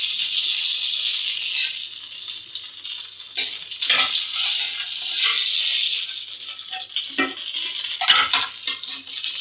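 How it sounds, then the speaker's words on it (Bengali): Chicken pieces sizzle and crackle in hot oil in a pan, a steady close frying hiss broken by a few scraping stirs of a spatula against the pan. "চিকেন আমার মোটামুটি সব ভাজা হয়ে গেছে"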